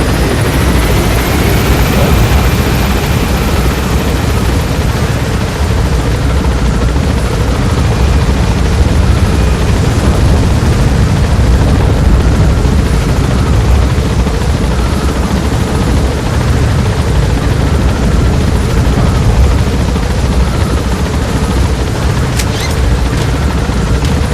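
A helicopter in the video game Metal Gear Solid V: The Phantom Pain roars loud and unbroken for the whole stretch, a dense, thick rotor-and-engine drone with no pauses, heard up close.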